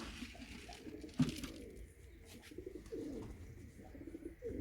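Domestic loft pigeons coo softly and repeatedly at close range over a faint background, with one brief louder knock partway through.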